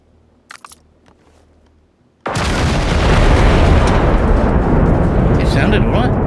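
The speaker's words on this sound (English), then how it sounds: "that was a good bang." After a few quiet clicks and faint sounds, a sudden massive explosion bursts in and rolls on as a loud, sustained crackling roar in the video game Generation Zero.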